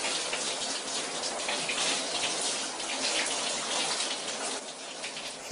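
Shower water runs steadily while someone washes, a close, continuous hiss and spatter with small shifts in the splashing throughout.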